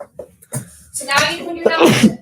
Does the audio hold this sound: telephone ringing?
no